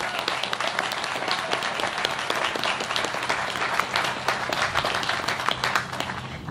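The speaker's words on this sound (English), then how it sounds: "a big round of applause for Pensacola" An audience at a U.S. Navy amphibious warship commissioning ceremony in Pensacola gives a sustained round of applause, dense overlapping claps filling the space steadily for several seconds before tapering slightly.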